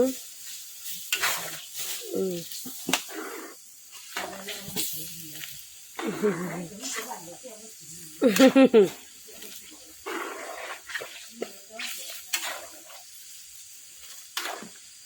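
Curry paste is stir-fried with pork cracklings and ginger, with intermittent scraping strokes of a spatula over a faint sizzle, some louder clattering bursts, and a person speaking at times in between.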